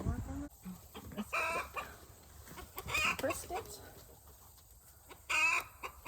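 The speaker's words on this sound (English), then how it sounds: "it's Kitty running around that's causing the chickens to keep alarm crying" Chickens on a sheep farm give repeated clucking alarm calls in short bursts, some near and some farther off, while a person speaks briefly in between.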